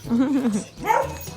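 A nearby dog gives a short bark or yelp right after a voice, with her talking continuing around it.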